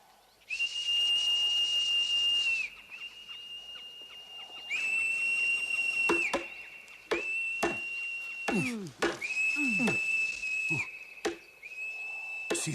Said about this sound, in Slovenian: Si slišal ta žvižg?